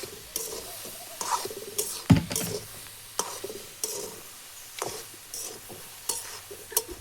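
Dal stirred and sautéed in a pan over a wood-fired village stove, with soft scraping stirs and a low crackling sizzle, punctuated by a louder clatter near the middle.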